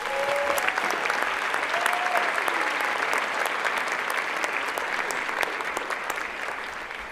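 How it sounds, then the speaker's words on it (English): An audience at the Legacy of HOPE special presentation applauds steadily, with a few brief whoops rising above the sustained clapping. "Can we give them all a round of applause"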